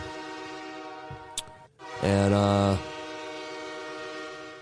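A train horn blasts one loud, sustained, harmonic-rich note for under a second, set against a steady rumble of rail traffic that continues after the horn stops.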